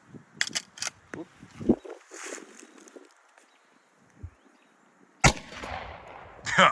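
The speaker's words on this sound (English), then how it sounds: "now we're going to be shooting 230 grain 45 ACP out of a USP 45" A 230-grain 45 ACP round fired from a USP 45 pistol at a reproduction WW2 German M35 steel helmet: one sharp, loud outdoor shot near the end, with talk and handling noises before it.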